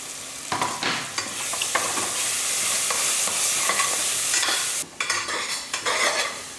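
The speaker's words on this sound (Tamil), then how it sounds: "இப்போ எல்லாமே ஸ்லோ ஃப்ளேமில் வச்சுட்டு இப்போ நல்லா வதங்கிக்கிட்டு இருக்கட்டும்" Masala paste for brinjal rice frying over a slow flame, a steady close sizzle broken by spatula stirring and scraping, with a brief lull near the end before the frying picks up again.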